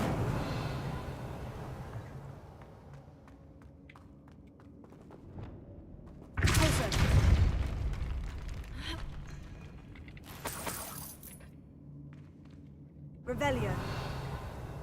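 Incendio fire spell cast in Hogwarts Legacy: a loud, rushing burst of effect sound after quieter footsteps and movement, then further short bursts, with a player talking throughout.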